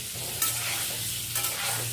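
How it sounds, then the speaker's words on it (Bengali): Potatoes with a little turmeric sizzle in hot oil as they fry to light brown, a constant crackling hiss with a couple of brief scrapes as they are stirred, heard up close. "হালকা ব্রাউন করে ভেজে নেব"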